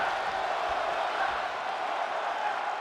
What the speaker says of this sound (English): crowd is chanting one more time